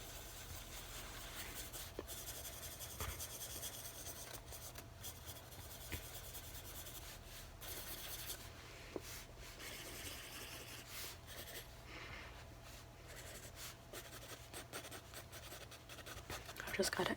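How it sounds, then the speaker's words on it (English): Pencil scratching and rubbing across paper while a portrait is drawn, a steady close-up scritching texture running throughout with soft breathing and quiet speech underneath. "I just want to finish up drawing you with the specifics"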